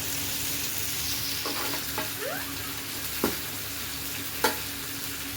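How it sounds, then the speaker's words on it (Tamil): Onions softening in a pan for bread masala, a steady low sizzle with a few soft spoon stirs and scrapes, two sharper clinks near the end, no talking. "இப்போ நல்லா ஆனியன் வதங்கிக்கிட்டு இருக்குது."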